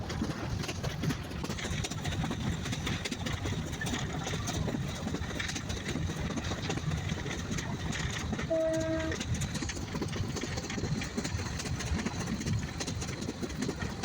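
A passenger train rumbles along steadily during a journey, heard from inside with continuous clattering and engine drone, and a brief horn-like tone midway.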